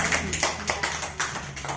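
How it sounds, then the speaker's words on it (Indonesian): Teachers at a school gathering clap their hands in a few separate bursts, each quick and sharp, in a fairly close indoor room with no talk. "tepuk tangan dulu untuk SD kita ya"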